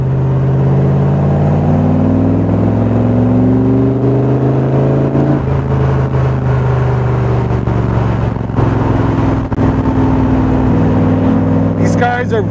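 A 1965 Superformance Cobra roadster's engine pulls hard at half throttle, its loud close exhaust drone rising in pitch through the gears in repeated sweeps, with a driver talking over it.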